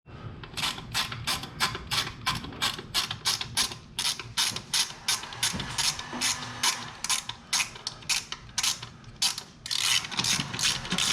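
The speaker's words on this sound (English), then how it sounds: "Alright, time to tighten up the intake." Rapid, steady clicking of a hand ratchet tightening the intake on a 2017 Ford Focus RS, close up, in quick bursts of strokes with brief pauses between runs.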